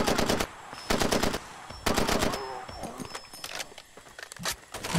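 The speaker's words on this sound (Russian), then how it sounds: "Откуда была стрельба?" Bursts of automatic gunfire from the video game Far Cry 2 come in several loud, sharp volleys separated by short gaps, with fainter shots and clatter between them.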